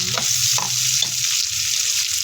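Garlic sizzles steadily in a frying pan while being sautéed for a Filipino spinach and pork giniling dish. Three soft stirring scrapes cut through the constant close hiss, and no one speaks.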